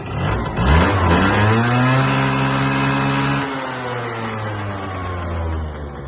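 A small Yamaha Jog SA16 scooter engine revs up hard and holds a high, buzzing pitch, then drops back slightly and keeps droning steadily, loud and close.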